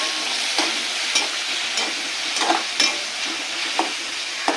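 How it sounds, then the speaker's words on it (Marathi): Tomatoes fry in hot oil with browned onion, a steady close sizzle broken by regular clinks and scrapes of a spoon stirring the pan about once a second, with no talking. "टोमॅटो चांगलं हलवून घ्यायचं आहे तेलात."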